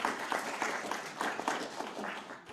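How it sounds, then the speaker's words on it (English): Applause from an audience at a Democratic party gathering in Northern Michigan, a steady, moderately distant patter of many hands lasting a couple of seconds and tapering slightly at the end. "give a collective round of applause for the work that folks in Northern Michigan did"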